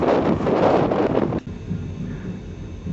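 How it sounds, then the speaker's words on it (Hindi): Strong wind buffets the microphone at a bridge construction site, a loud broadband roar for the first half that drops abruptly to a lower, steadier rumble. "बड़ी तेज़ हवाएं चल रही हैं और काम जारी है।"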